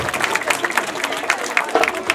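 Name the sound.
applause for the children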